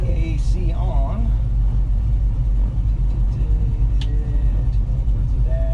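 A 1967 Chevelle Custom pulling away in drive with its engine rumbling low and steady from inside the cabin, while a person talks over the drone.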